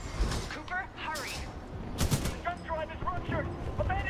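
Bursts of gunfire in the video game Titanfall 2, rapid shots and impacts with explosions over busy game sound, with voices talking throughout.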